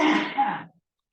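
A single short, breathy sneeze, close and sharp, fading out quickly into silence.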